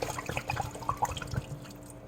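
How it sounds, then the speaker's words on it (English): Water poured into a cooking pot of sausage Alfredo and corn on the cob, a short, close trickle with drips and splashes and no talk. "looks like we're going to need a little bit more water."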